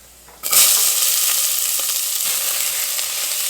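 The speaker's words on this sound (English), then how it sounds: "fry this onion and all this together for 5 minutes" Onion hits hot oil in a pot and bursts into loud, bright sizzling that settles into a steady frying hiss, alone without talk.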